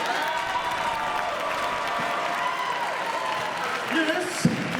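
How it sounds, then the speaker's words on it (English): Applause and light cheering from a convention crowd at an in-character cosplay contest as contestants come on stage, moderately loud and steady, with voices breaking through toward the end. "let's give a big round of applause and welcome our first contestants, Zach and Jim."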